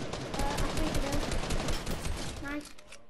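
A rapid, continuous burst of gunfire sounds in Fortnite as a player lands headshots on an enemy, dense and fairly close, with talking mixed in under the shots.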